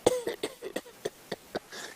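A person imitates a baboon's cough, giving a series of about eight short, sharp, evenly spaced coughing bursts with no talking.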